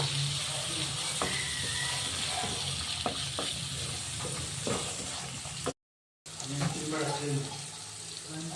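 Fresh green peas fry in oil in a pan with a steady, close sizzle, broken by sharp stirring clicks and scrapes and one brief cut of silence.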